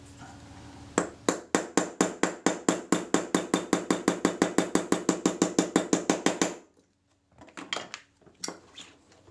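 A pin punch tapped with a small hammer to drive the hinge pin out of a Retina IIa camera: a rapid, even run of about thirty sharp metallic taps, then a pause and a few scattered knocks.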